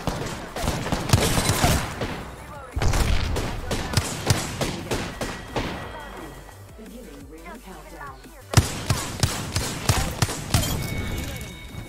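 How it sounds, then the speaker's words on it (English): Rapid bursts of gunfire from the video game Apex Legends, including a Hemlok rifle firing on full auto, come in clustered volleys with short gaps, loud and close, while a player talks between the shots. "I'm going to the other gunshots."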